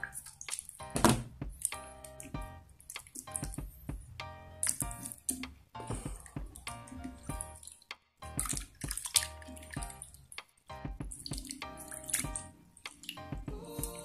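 A suede cowhide leather watch strap is scrubbed with a brush and rinsed with water, giving wet splashes, drips and soft knocks in irregular bursts.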